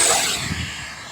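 Arrows Marlin 64mm electric ducted-fan RC model jet passing in flight, a steady broadband airy whoosh and hiss, moderately loud and slowly fading, with no voices.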